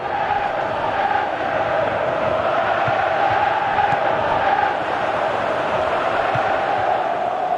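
Simulated stadium crowd in the football video game PES 2021 during an AFC Champions League match, a steady loud roar of cheering and chanting held throughout, with no talk over it.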